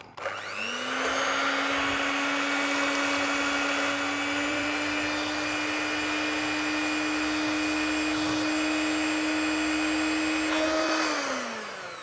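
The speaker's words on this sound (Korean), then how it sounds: "핸드 믹서를 이용해서 휘핑 시작합니다" An electric hand mixer whips egg whites, whirring at a steady high pitch for about ten seconds, starting and stopping abruptly with a constant motor drone.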